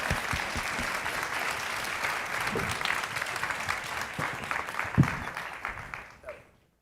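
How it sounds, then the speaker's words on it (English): Audience applause at a live music sustainability summit in LA, sustained clapping from a crowd for several seconds, even and fairly full before fading out at the end. "Let's give them a warm applause, and then Celie."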